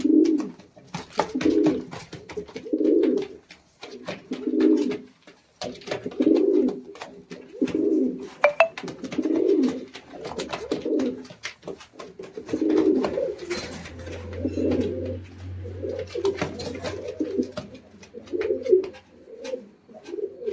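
Madras pigeons coo repeatedly in soft, low, rolling calls close by, one after another in a steady rhythm, with a faint hum joining partway through.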